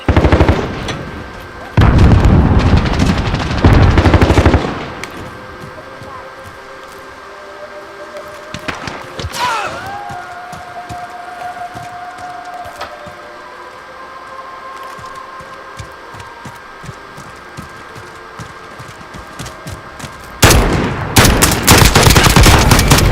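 Loud bursts of automatic gunfire in Modern Warfare, heavy sustained volleys at the start and end with a quieter stretch of distant shots, ambient whine and a few callouts in between.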